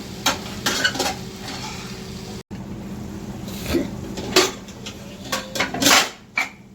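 Okra frying in oil in a pan, stirred with a utensil: intermittent scrapes and clinks over a steady low sizzle, close up, with no speech.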